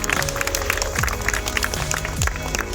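Applause at a retirement party in India, steady dense clapping from a crowd with low voices mixed underneath.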